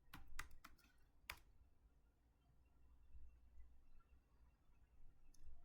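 A few quick computer keyboard keystrokes tap out in a short cluster, followed by near silence and faint room noise, then one more soft click at the end.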